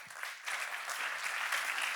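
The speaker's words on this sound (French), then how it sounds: "Je vous propose de l'applaudir et on l'écoute." Audience at a climate and economics forum applauds a speaker as she is introduced, a steady dense clapping that swells after a brief softer start and holds at full strength.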